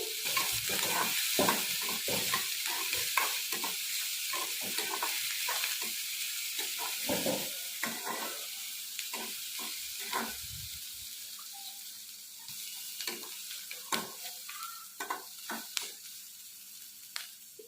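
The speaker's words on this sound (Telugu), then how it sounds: "పచ్చిమిర్చి, ఆనియన్ వేసుకోవాలి. కరివేపాకు, ఇవి కొంచెం ఫ్రై చేసుకోవాలి." Green chillies, onion and curry leaves sizzle steadily in hot oil in a pan, with a broad continuous hiss broken by frequent scraping stirs of a spoon against the metal, close and without any voices.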